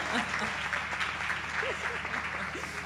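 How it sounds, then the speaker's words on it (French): Audience applauding at a masterclass, a steady dense clapping that runs the whole time, fairly close, with some voices mixed in. "Vous pouvez vous applaudir"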